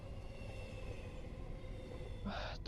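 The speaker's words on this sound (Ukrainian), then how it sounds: "потяг." A train in a video game rumbles past as a steady, low, faint rolling drone, with a brief brighter hiss of noise near the end.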